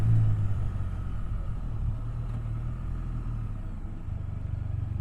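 A Can-Am Spyder engine rumbles steadily while the machine automatically downshifts, a low, close drone with a slight dip in pitch partway through.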